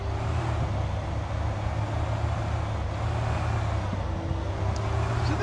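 A car's engine hums steadily as it is driven in Thief Simulator, a constant low drone with road noise and no pauses.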